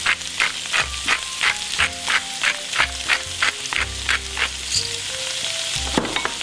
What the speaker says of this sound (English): Okay, it's been sauteing a little bit here for maybe 2 to 3 minutes, starting to sweat out a little bit.